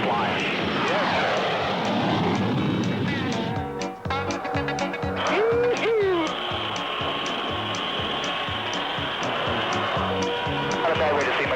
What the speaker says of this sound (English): Nose wheel getting light here at 120. We'll be airborne about 140.